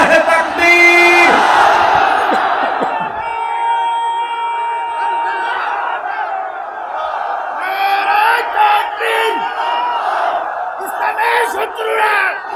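A large outdoor crowd at an Islamic religious sermon gathering in Chuadanga, Bangladesh, chants back loudly in unison in response to a takbir call, the massed voices swelling and repeating in rhythmic bursts over a sustained roar.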